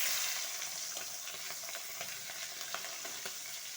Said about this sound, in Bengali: মাছটা একটু ভাজা করে নেব।